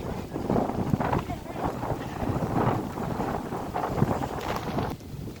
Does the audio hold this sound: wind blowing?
yes